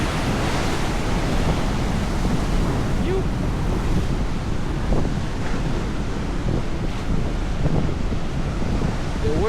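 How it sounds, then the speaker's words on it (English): Atlantic Ocean waves breaking on the shore as a continuous, loud roar of surf with heavy wind buffeting the microphone and a few faint, brief sounds over it, heard steadily for about nine seconds. "The waves here are just a marvel to watch."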